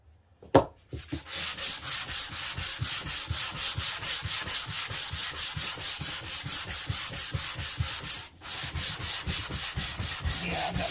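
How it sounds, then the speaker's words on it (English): Power sanding on a wooden cutting board, a loud, continuous close-up grinding drone pulsing in a steady rhythm, with a brief break near the end before it resumes. "I might be able to sand all that out"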